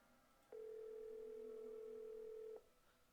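A steady telephone dial tone from the Nancy Drew: The Haunt video game plays as one clean, unbroken hum for about two seconds, clear and alone over a quiet background.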